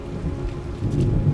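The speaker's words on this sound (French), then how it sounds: "Non, il pleut, Gunnel." Steady rain with a low rumbling background in The Evil Within, a dense even wash of falling water that swells slightly toward the end, with no voices.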